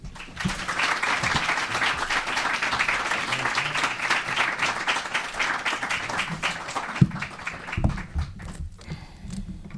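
An audience in a lecture hall applauds to welcome a visiting professor, a dense sustained wave of many hands clapping that thins out and trails off near the end.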